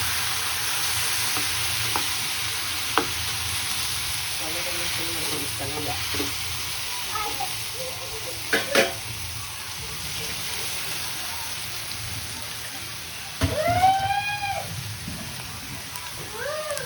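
Tomatoes fry in a pan for an egg gravy, giving a steady hiss like light rain. A few utensil knocks and a faint voice sit in the background, and a brief squeaky sound comes near the end.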